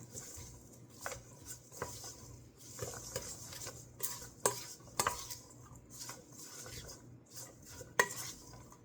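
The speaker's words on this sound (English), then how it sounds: "Then I'm going to give that a mix." A utensil stirs onion butter into an egg bite mixture in a bowl, making soft scraping swirls with occasional sharp clinks against the sides. The sound is fairly quiet and steady, with no talking.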